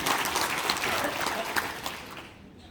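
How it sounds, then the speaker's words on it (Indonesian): An audience at a Purwakarta development planning forum breaks into applause, a brisk crowd of clapping hands that holds steady for about two seconds and then quickly fades out. "Tepuk tangan dong"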